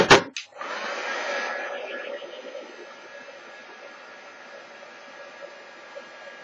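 Hair dryer blasting to dry stamped ink on a craft table, starting with a loud click and whoosh, then a steady close rushing drone with a whining tone that holds for several seconds.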